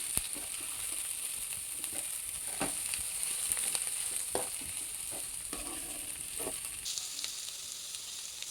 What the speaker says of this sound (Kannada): ಸೊ ಇದೆಲ್ಲ ನೀಟಾಗಿ ಫ್ರೈ ಆಗಬೇಕು